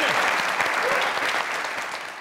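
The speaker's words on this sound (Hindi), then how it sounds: "उनके लिए तालियां।" A studio audience at a televised comedy talk show bursts into loud, dense, sustained applause that carries evenly throughout with a faint crowd murmur beneath.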